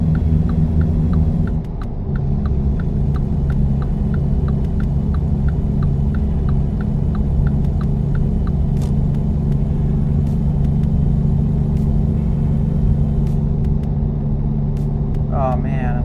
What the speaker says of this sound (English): going uphill with a loaded truck.